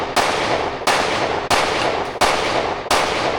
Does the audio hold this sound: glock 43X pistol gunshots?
yes